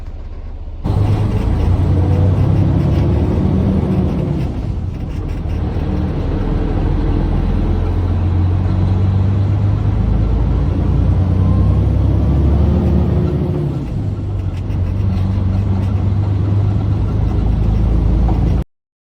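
Grain truck driving along a road on a haul between granaries, a steady loud low engine drone and road rumble throughout, with slight shifts in pitch as it changes speed and no talking.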